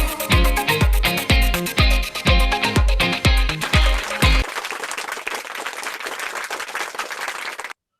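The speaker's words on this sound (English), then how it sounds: "Can we have a huge round of applause for him?" Applause during an online conference webinar, opening over a loud music track with heavy repeated beats, then thinning to a dense patter of clapping alone before cutting off abruptly.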